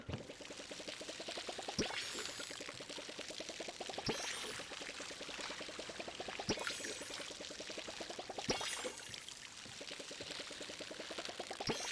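Water pours from a watering can onto crops in the Palia video game, a clear rising gurgle repeating about every two seconds, each pour cut off by a sharp click.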